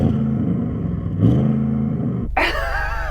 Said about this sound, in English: Okay, let's hear the Audi RS6.